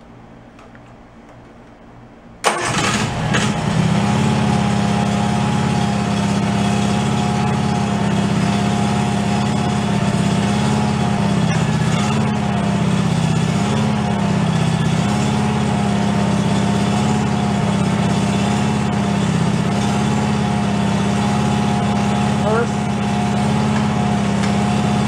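A DR field and brush mower, left abandoned for 11 years, has its small engine start abruptly. It then runs steadily at close range with a loud, even drone and a faint ticking.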